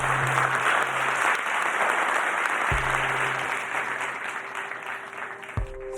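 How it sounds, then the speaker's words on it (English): An audience gives a big round of applause for the Skyhook team, steady crowd clapping throughout with a few low tonal hums and a sharp knock underneath, fading slightly toward the end. "Let's have a big round of applause for the Skyhook team"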